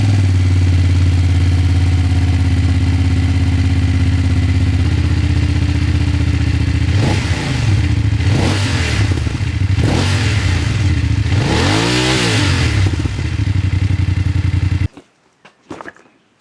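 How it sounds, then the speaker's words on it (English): A BMW F850GS motorcycle on its stock exhaust idles steadily and close by, then is blipped into several sharp revs that rise and fall, before cutting off abruptly near the end. "This is my BMW F850GS, and it sounds like this."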